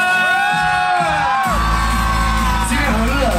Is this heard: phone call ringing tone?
no